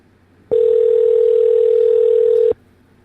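One steady, sustained telephone ringing tone lasting about two seconds, loud and clean against a quiet background.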